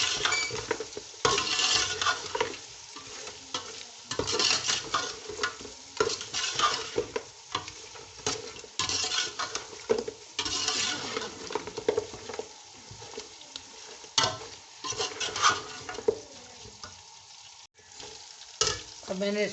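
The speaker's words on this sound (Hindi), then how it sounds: "अब मैंने अच्छी तरह इसको भून लिया।" Pulao mixture of onion, garlic and spices being fried in a pan, busy stirring and scraping over a constant sizzle, near and fairly loud with rhythmic clatter of the spoon against the pan, no voices.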